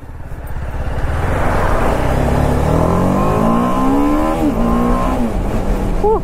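An RR 310 motorcycle engine revs hard and loud up close, its pitch climbing steadily through the revs and then dropping and rising again in quick blips near the end. No voices are heard.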